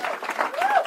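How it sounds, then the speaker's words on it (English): Audience applause at an escape artist show, a short burst of dense clapping from the crowd with a voice talking over it. "Let's give John and Jesse a big round of applause as they make their way back to their seats."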